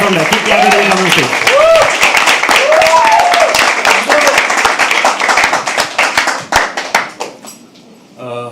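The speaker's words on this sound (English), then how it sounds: "Keep clapping till he comes on stage." Loud, dense clapping from an audience at a live poetry open mic at The Habitat, greeting a performer coming on stage, with whoops and voices over it before it thins out near the end.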